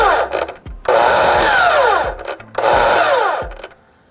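A DEWALT FLEXVOLT cordless miter saw spins up loud and close in two long bursts, each rising whine sustained for over a second then braking down, with short blips between.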